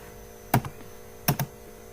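Two short, close bursts of typing on a computer keyboard, each a quick cluster of keystrokes, separated by quiet.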